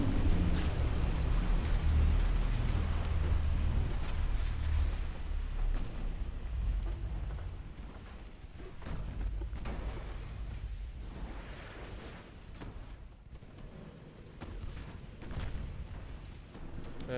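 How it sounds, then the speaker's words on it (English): A Pantera class battleship sinks in the naval warfare game Ultimate Admiral Dreadnoughts, giving a long, loud low rumble of booms and churning water that slowly fades and swells again, with no voices. "And down goes a Pantera class battleship"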